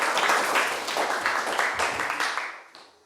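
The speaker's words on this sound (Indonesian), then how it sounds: "tepuk tangannya dulu buat kita semua." A class of students claps hands together in a brief, moderately loud round of applause that fades out after a few seconds.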